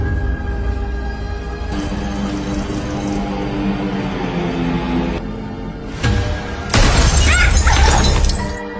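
A lamp shatters indoors in a dramatic scene, with a loud burst of breaking glass and scattering debris near the end, set against a steady musical background.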